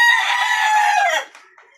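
One loud, drawn-out call from a hen fills the clip up close, fading quickly into a faint cluck.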